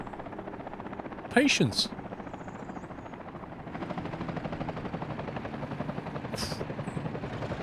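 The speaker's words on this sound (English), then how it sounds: "There's a chopper!" Helicopter rotor and engine drone steadily throughout a Workers & Resources: Soviet Republic city-builder game, with a brief voice and short game effects over it.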